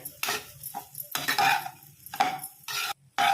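Bursts of a spoon scraping and stirring rice through a spiced tempering in a pot, with a soft sizzle between the strokes, close and fairly loud.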